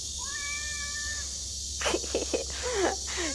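A cat meows a few times in a dormitory microwave room on Jeju, short rising and falling calls, close by over a steady low background hum.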